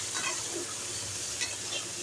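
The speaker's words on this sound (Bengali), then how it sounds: "লতি ভাজা করছি পেঁয়াজ রসুন দিয়ে কচুর লতি ভাজা" Taro stolons (kochu loti) frying with onion and garlic in a pan, a continuous close sizzle with the scrape and rustle of stirring over it.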